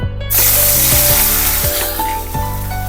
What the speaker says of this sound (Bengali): এখানে আমি বেশ কিছুটা তেল গরম করে নিয়েছি এবার কাঁকরোলগুলো ভাজব